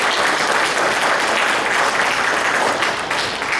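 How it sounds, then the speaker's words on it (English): Audience applauding at a general meeting, a loud, sustained and even wash of many hands clapping together, continuous from start to finish with no voices over it. "So round of applause to them both."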